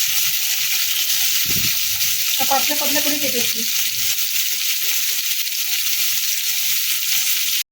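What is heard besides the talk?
bitter gourd frying in hot oil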